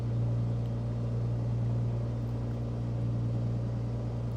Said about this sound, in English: the background engine noise is too loud or too quiet